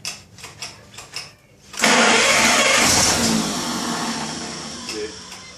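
A 1933 Chevrolet car with a new engine starts for the first time in over 50 years: several rhythmic cranking pulses, then the engine catches and roars loudly into a steady, rough idle close by.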